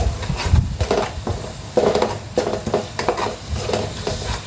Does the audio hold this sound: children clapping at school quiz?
no